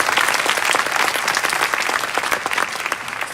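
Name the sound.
audience applause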